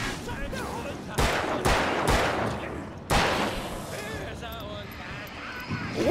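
Gunshots in the video game Alan Wake: four or five loud, sharp blasts spaced a second or so apart, with someone talking over the game's background sounds.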